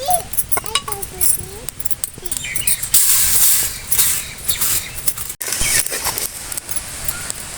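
Pearl millet (kambu) dry roasting in a pan, popping and crackling in quick irregular bursts with a steady hiss of grains shifting, close and fairly loud.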